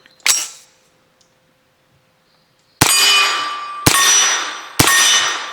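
A Korean magazine drops free from an FX-9 pistol-caliber carbine, giving four loud metallic clangs: one sharp strike, a pause of about two seconds, then three ringing clanks in close succession, each with a bright lingering ring.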